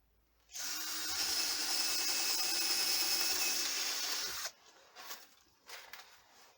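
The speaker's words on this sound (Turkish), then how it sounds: "Şuradan da bir delik atalım." A power drill bores a hole for LED grow light cables in a soilless growing setup, running as one loud, steady whir for about four seconds before stopping, followed by a few brief handling clatters.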